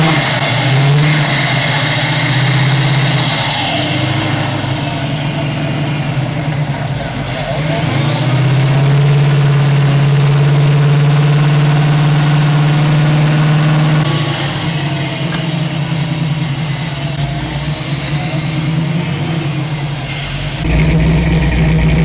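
A Firebird's supercharged 408 Whipple engine runs loud and close, holding a steady idle with a constant supercharger whine, its pitch shifting and rising slightly with a few gentle revs, continuous throughout.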